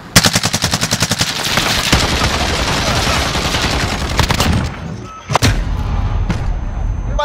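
Rapid automatic gunfire rattles in bursts in the Call of Duty Modern Warfare game, loud and close, followed by a dense roar of shots and a few heavy isolated blasts near the end.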